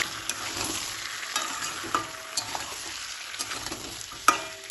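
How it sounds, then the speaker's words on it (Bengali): Chicken pieces fry in oil with a ground spice paste for malai chicken, giving a continuous close sizzle broken by irregular stirring scrapes and clinks of the spoon against the pan, with no voices. "এখন আমি এর মধ্যে দিয়ে দেবো পেস্ট করা মশলা মশলাটাও চিকেনের সাথে ভালোভাবে কষিয়ে দেব"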